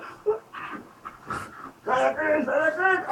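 A pet dog waking someone in the morning, giving close whimpers, yips and panting breaths, while a person talks and laughs over it.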